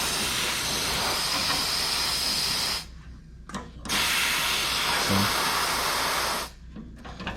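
Compressed air from an air compressor hissing through the burner of a Mr. Heater garage heater, a loud steady rush that cuts off briefly twice with short pauses and small clicks, close up and without speech.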